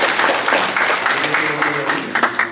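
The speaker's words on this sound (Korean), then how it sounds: "박수 환영합니다" A church congregation claps to welcome a first-time worshipper during a service, a short burst of mixed, uneven clapping with voices murmuring underneath.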